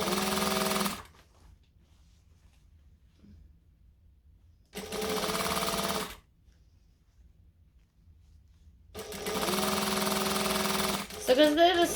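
Sewing machine stitching a jacket (McCall's M6442), running in three separate bursts of steady mechanical whirring, loud and close, with quiet pauses between them.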